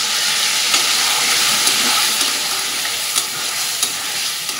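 Spice paste frying in oil in a pan while being stirred, a continuous bright sizzle with light scraping strokes recurring every second or so, close and fairly loud, no voices.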